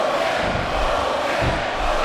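Crowd roar from a WrestleMania wrestling video game, a steady, dense wash of arena cheering that swells slightly in places and runs loud for the full two seconds with no voice over it.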